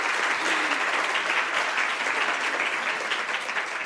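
Dense audience clapping fills a cocktail science cooking event, an even, sustained round of hands with no pause and no voices standing out.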